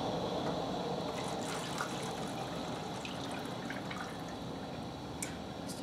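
Water poured through a funnel into a cup makes a soft, steady trickling rush that runs unbroken throughout, faint and close, with no voices.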